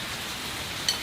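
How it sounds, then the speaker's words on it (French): Rain falls steadily on a boat out on whale-watching waters, a soft, even hiss of drops with a brief brighter patter near the end and no voices. "Mais bon, il pleut. Encore et encore."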